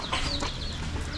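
Chickens cluck near a walled yard with a gate in Tiaong, Quezon, a few soft calls standing out over steady rustling background noise.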